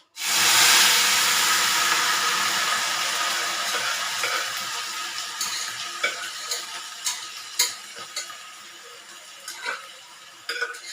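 Chopped cabbage and onion hit a hot pan and sizzle loudly at first, the frying settling into a steady hiss broken by sharp clicks and scrapes of stirring.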